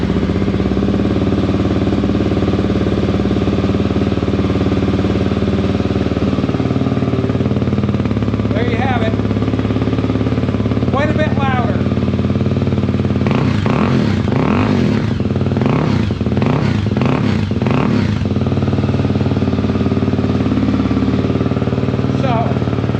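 A Kawasaki KLX300 dirt bike, 2025, fitted with a new exhaust pipe, runs steadily at a loud, close idle for the whole stretch, with blips of throttle midway and voices speaking over the engine noise.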